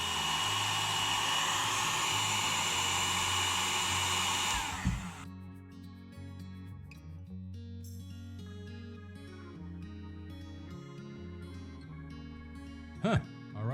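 A heat tool on its low setting warms a part of a Disney Winnie the Pooh snow globe, blowing with a loud steady whoosh for about five seconds before cutting off, followed by quiet clicks and faint handling.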